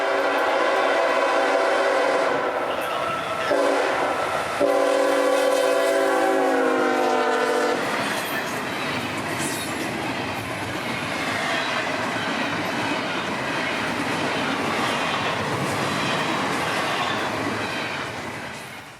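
Freight train M209 passing in Briceville on the S-Line, with locomotives and intermodal cars leading autoracks: a strong horn blast in the opening seconds, then a loud, steady rumble and clatter of cars rolling close by, fading slightly at the end.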